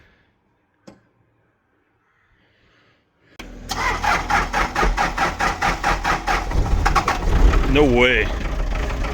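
An old barn-find diesel engine, preheated, cranks after a few seconds of near silence and catches into a steady, rhythmic running idle, close and loud, with a voice speaking briefly over it.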